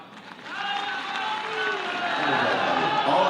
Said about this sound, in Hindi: और जोरदार तालियां।